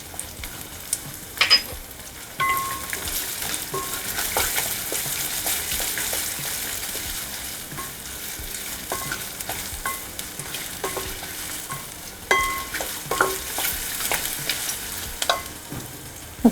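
Green chillies fry in oil for a vegetable upma, making a steady, close hiss and crackle with faint clinks of stirring throughout.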